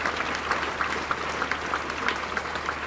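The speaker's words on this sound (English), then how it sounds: "stimulate your applause, please" An audience claps steadily throughout, a moderate, fairly distant patter of many hands with no voices over it.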